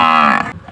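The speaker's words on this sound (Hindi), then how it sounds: "बस ये कट्टा ही बचा है।" A young buffalo calf lets out a loud, close moo, a drawn-out tonal bawl that breaks off abruptly, heard alone without talk.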